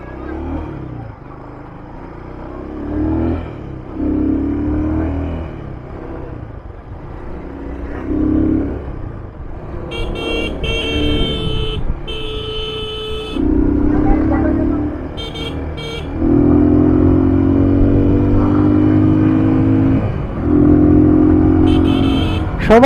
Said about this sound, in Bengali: আমি কনফার্ম শিওর মিটারে যা শো করতেছে বাইকটা তার থেকে অনেক বেশি হাই স্পিডে চলে।